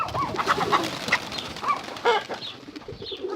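A young pigeon coos softly several times nearby over a low rustling background, with a faint flutter of movement.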